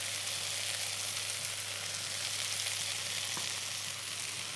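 Fennel seeds and dried chilies get stirred in a hot frying pan, producing a soft, even sizzle that holds steady the whole time, with a faint low hum beneath it and no voices.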